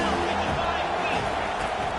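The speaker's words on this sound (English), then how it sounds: "This crowd rising up, sensing that its defense needs some help." Stadium crowd at a football game roaring as it rises up during a defensive third down, a dense continuous wash of cheering and noise filling the space, loud and sustained throughout.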